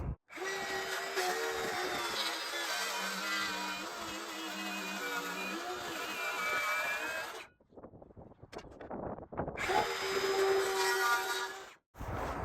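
Power saw cutting a crooked board along a clamped straight edge at a cottage, a loud steady whine for several seconds, a brief pause with rattling, then a second burst of cutting.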